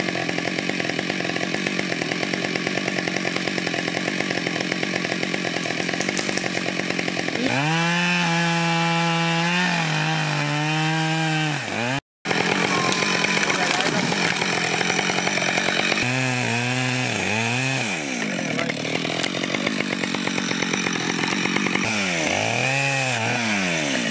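A chainsaw drones continuously in a forest during logging, its pitch rising and bogging down repeatedly as it bites into wood, with a brief dropout midway.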